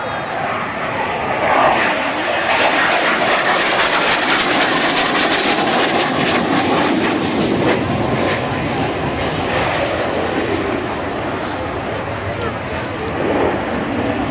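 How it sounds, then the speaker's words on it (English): Display aircraft performing aerobatics, including a rapid aileron roll, at an air show at Baldonnel in June 2000; a loud continuous engine roar fills the whole stretch, close and steady with slight swells, and a voice speaks faintly over it. "rapid little aileron roll there from Davis"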